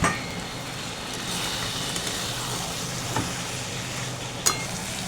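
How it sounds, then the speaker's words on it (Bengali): Chicken frying in a pan in a home kitchen, a steady close sizzle with faint stirring scrapes and a couple of brief clinks, continuous throughout. "চিকেনটা দিয়ে দিলাম এবারে।"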